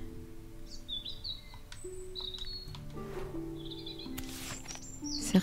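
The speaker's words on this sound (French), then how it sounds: "Il y a un rouge-gorge ici." A European robin in the video game Botany Manor sings a series of thin, high, warbling phrases over quiet ambient tones and a low background hum, fairly faint and spaced out.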